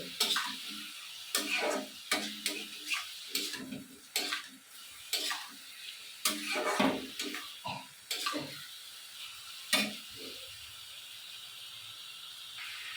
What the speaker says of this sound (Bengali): ভালো করে আস্তে আস্তে আঁচ দিয়ে দিয়ে সাতলাতে হবে।